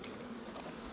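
Honey bees from a blue-tagged hive colony, six frames strong, give off a steady, even buzzing hum that fills the whole moment with no voices.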